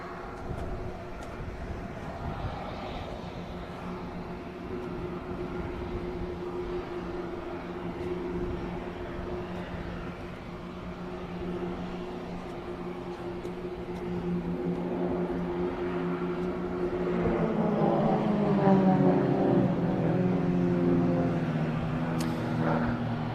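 Royal Jordanian Falcons display team aircraft roar overhead on their final manoeuvre at an air show, a broad engine drone with harmonic whine that swells louder and rises in pitch toward the end, with no talk.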